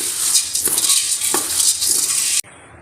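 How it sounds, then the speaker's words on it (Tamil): Roasted gram dry-roasting in a kadai, stirred with a steady, close scraping and light rattling for about two seconds, then stopping abruptly. "இதில் பொட்டுக்கல்லை நம்ம அதில் போட்டு இளம் வறுப்பாக வறுத்துக்கலாம்."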